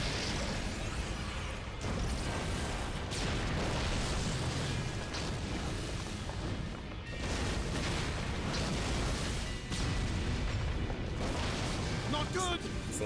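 Video game explosions in Xenoblade Chronicles: Definitive Edition, a dense run of loud booms and bursts filling the mix with little pause, with voices talking over them.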